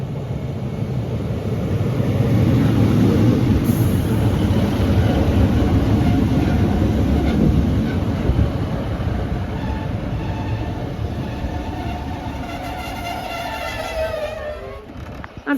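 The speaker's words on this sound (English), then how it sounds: "departing out now is the delayed 1400 Northern service from Hexham to Nunthorpe" A delayed Northern passenger train, unit 156471 on the Hexham to Nunthorpe service, departs Corbridge station with a steady rumble of diesel engine and wheels that slowly fades, ending in a faint high squeal.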